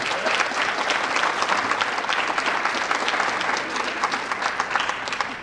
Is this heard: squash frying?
no